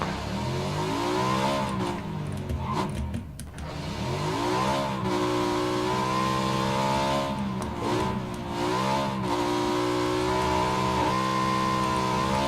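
A motorcycle engine in PUBG: Battlegrounds drones loudly and continuously, its pitch rising and falling as it revs and shifts, with brief dips along the way.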